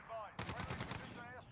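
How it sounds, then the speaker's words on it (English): Gunfire in the video game Modern Warfare: a rapid automatic burst of about eight close shots, with softer game sounds before and after. "There's two gunfires right there."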